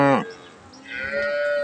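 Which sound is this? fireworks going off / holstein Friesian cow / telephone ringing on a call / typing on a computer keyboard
holstein Friesian cow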